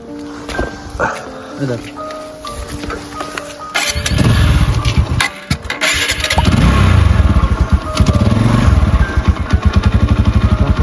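A motorcycle engine cranks and catches, then runs with a loud, steady throbbing idle and revving, close by, with people talking over it.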